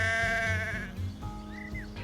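A ten-year-old ram living with a herd of cattle on lush grassland bleats loudly up close, a long wavering call followed by a shorter second bleat, with no talking.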